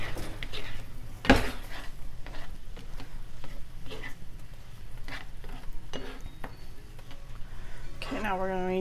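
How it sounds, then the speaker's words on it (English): Steady sizzling of food frying in a pan, with a loud clank of a utensil early on and occasional scraping and stirring sounds throughout. "Okay, this is really sizzling now."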